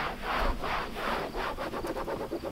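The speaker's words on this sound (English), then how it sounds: "I'm going to use regular old rubbing alcohol to prepare the surface." Cloth soaked in rubbing alcohol rubs back and forth across a trailer roof in steady, close, scratchy strokes. Nobody talks.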